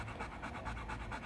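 A dog pants rapidly and rhythmically up close, quick short breaths repeating evenly for about a second.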